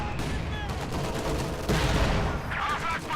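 Machine gun fire in the video game Company of Heroes 2: dense rattling bursts over about three seconds, mixed with other battle noise and a voice talking over it.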